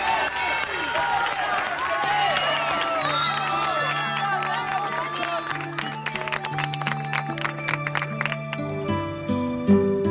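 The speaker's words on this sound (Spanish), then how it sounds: "Así que aplausos para Johnny." Loud, continuous applause and cheering from a crowd of young people at a televised show, with shouting voices that give way to music and sung notes.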